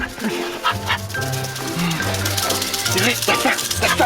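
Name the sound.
dog whimpering and yipping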